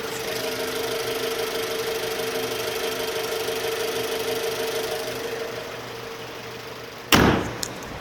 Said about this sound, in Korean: 엔진음도 상당히 완벽했습니다